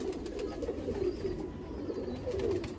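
Golden red-eyed pigeons coo in repeated low throaty rolls, several birds overlapping at moderate distance over a soft, steady background.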